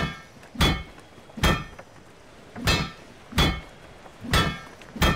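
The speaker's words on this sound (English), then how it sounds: "they will be waken up by the sound of me banging a hammer" Six loud, evenly spaced hammer bangs from the video game Spiritfarer, each a sharp metallic strike with a ringing tail, separated by quiet gaps of under a second.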